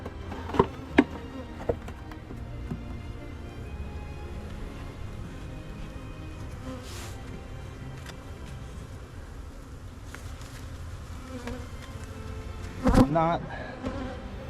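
A honey bee swarm buzzes densely inside its hive as wax is drawn on the foundation, a constant close hum with occasional clicks and frame knocks.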